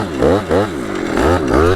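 Two-stroke pit bike engine revving hard during a wheelie, loud and close with a buzzing, rising and falling rasp that surges in repeated waves.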